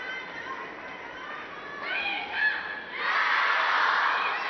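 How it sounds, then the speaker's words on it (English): Table tennis arena crowd at a WTT Champions quarterfinal in Xinxiang, China, swelling into cheering and applause after a point, a broad wash of noise that rises midway and holds loud to the end. "The crowd reminding Sunying Sha where she is."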